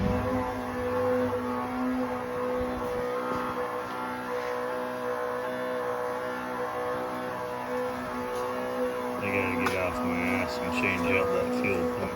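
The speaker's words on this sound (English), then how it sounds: "Noisy ass fuel pump." A noisy fuel pump runs in a 1936 International rat rod, giving a steady, constant mechanical whir and hum that carries through the whole clip with no talking.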